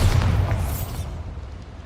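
A Bombarda spell explosion in the Hogwarts Legacy video game, heard as a loud, low rumbling boom that fades out over about two seconds with no voices.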